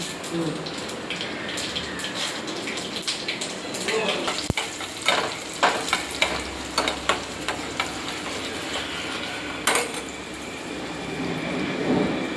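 Dried red chillies fry in hot oil with a busy, close sizzle, punctuated by sharp crackles and pops that cluster in the middle before settling back into a steady hiss.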